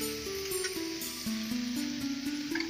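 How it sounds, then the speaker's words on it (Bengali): Greens spread out in a pan fry with cumin and a little mustard seed, giving a steady close sizzle that holds evenly throughout, with faint clicks of cookware and no talk. "এভাবে বিছিয়ে দিয়েছি যাতে ভালোভাবে আর একটু ভাজা ভাজা হয়"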